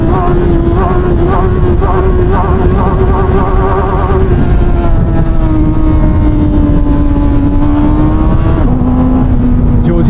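A CFMOTO 750SR-S motorcycle engine revs hard toward 9000 rpm, a loud, steady drone that holds near and climbs slightly in pitch, with a rider's voice talking over it.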